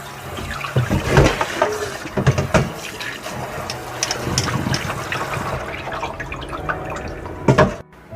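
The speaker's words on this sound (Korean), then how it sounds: "요거를 깨끗이 씻어서 건져줘야 되겠죠" Shishito peppers are rinsed in vinegar water and drained, with splashing, sloshing and dripping water in uneven bursts close by, then a brief pause, and no speech.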